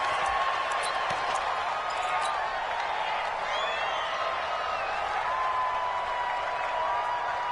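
Stadium crowd noise in a PS4 football video game, a constant broad roar with scattered whistles and cheers that stays even and fairly loud throughout.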